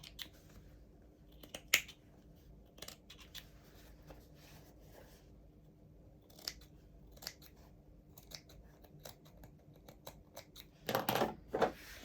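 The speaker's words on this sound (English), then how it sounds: "trim off any threads we've got along here" Small scissors snip loose threads off sewn coveralls, giving sparse, crisp close cuts and light handling taps against a quiet room. A quick cluster of snips comes near the end.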